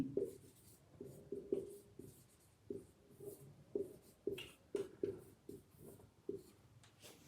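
A pen writing a Sanskrit example sentence by hand, a series of close, quiet scratching strokes in short regular bursts, about a dozen distinct marks with brief gaps between them.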